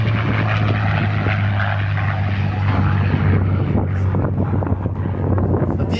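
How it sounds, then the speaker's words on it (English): A P-51 Mustang WWII fighter plane flies past, its propeller engine a loud, sustained drone that stays steady throughout, with wind buffeting the microphone. "Here comes the Mustang again."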